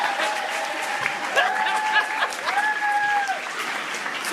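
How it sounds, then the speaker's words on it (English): Audience applause at a university talk, moderately loud and continuous, with crowd noise and faint tonal sounds mixed underneath. "Give yourselves a round of applause."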